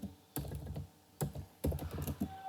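Clustered clicks and thunks of someone typing code on a computer keyboard, arriving in three short bursts separated by brief pauses, close and fairly quiet with no voice over them.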